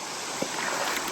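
A dog stirring up and splashing the water of a creek while crawdads are hunted; a steady, faint wash of flowing water with a brief soft splash near the start and light sloshing after.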